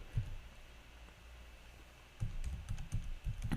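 Quiet keystrokes on a computer keyboard, one tap then a short burst of several clicks after a pause, close and soft with no voice.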